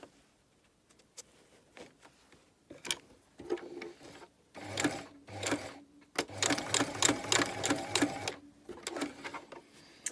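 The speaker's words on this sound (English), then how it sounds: "I'm going to start stitching." A sewing machine stitches fabric at the top of a zip at a garment waist. It runs in short bursts of rapid mechanical whirring, then a longer steady run, close by and fairly loud with no voices.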